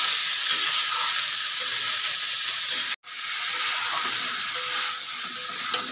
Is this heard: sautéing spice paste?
yes